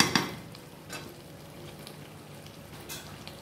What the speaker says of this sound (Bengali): পুরো জল আমি দিয়ে দিচ্ছি।